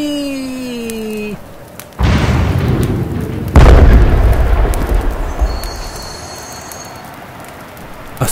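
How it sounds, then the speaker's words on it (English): Movie explosions: a first boom bursts in after a tonal passage, then a second, louder blast hits and rolls into a long decaying rumble and debris hiss. "A secondary explosion goes off"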